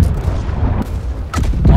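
Ship cannons boom in the naval video game Blackwake, heavy low thuds with a couple of sharp blasts near the end, over a rumbling battle background.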